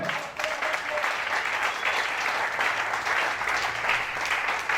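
Church congregation clapping and cheering during a Thursday worship service, dense sustained applause filling the room at steady loudness for several seconds.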